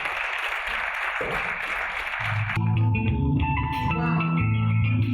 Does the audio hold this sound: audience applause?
yes